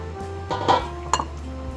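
A lid goes onto a cooking pot of mung beans with two quick metallic clinks, close and fairly crisp, over a quiet kitchen background.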